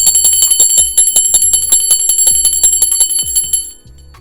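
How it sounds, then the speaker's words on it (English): A small hand bell is rung rapidly and repeatedly at close range during a spiritual ritual, a bright, loud metallic jangle with piercing high overtones and dense strikes that stops abruptly near the end, leaving ringing decay. "I'm going to ring my bell for my spirit guides, guardian angels, and ancestors."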